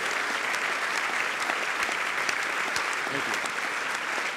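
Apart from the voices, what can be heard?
audience applause welcoming a lecturer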